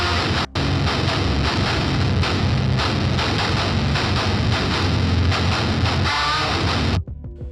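A heavily distorted mono guitar track tuned to drop F plays as a dense, gritty wall of sound, continuous and loud for about seven seconds with one brief break near the start before stopping abruptly.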